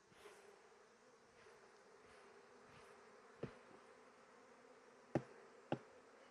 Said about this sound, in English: Let's just shake some bees off.